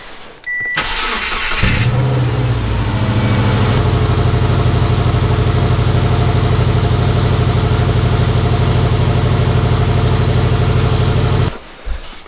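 A turbo-swapped Subaru Impreza cranks briefly, catches and settles into a loud, steady idle close by, then shuts off near the end.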